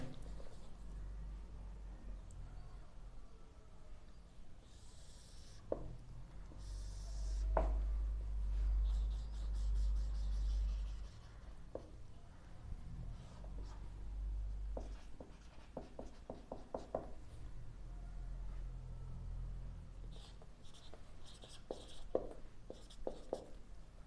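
Pen or marker writing on a board or paper while shear force and bending moment diagrams for a beam are drawn, a steady run of scratchy strokes and taps with faint room noise and no talk.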